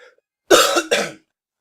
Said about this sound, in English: every time I say excuse me, I'm coughing because I'm going to edit out the coughs